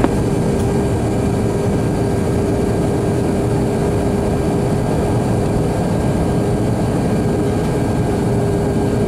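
A JetBlue Airbus A321 lands at Los Angeles LAX, its engines giving a loud, steady roar and rumble with a faint tonal whine, heard close and continuous throughout with no talk.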